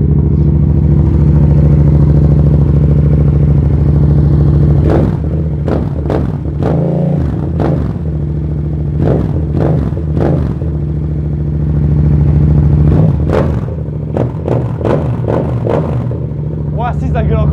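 Motorcycle fitted with an Arrow exhaust idling loudly up close, then revved repeatedly in sharp bursts, a dozen or so quick blips; people talk between the revs.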